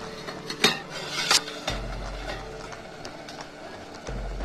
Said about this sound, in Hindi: अब इसे हम कवर करके बीच बीच में चलाते हुए पकाएंगे।